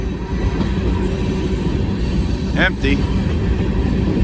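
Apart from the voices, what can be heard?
freight train cars passing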